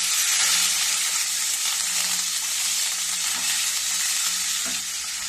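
Curry leaves fry in hot oil with asafoetida for a steady, loud, bright sizzle, with faint stirring scrapes underneath and no talking.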